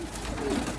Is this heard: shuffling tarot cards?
no